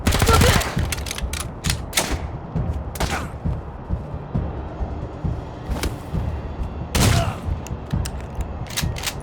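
Gunfire in Wasteland 3, with sharp scattered shots and short bursts spread across the clip, loud at the start and again later, over a low background rumble.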